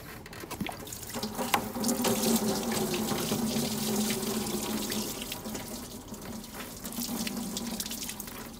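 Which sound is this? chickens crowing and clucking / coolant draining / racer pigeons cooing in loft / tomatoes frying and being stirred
coolant draining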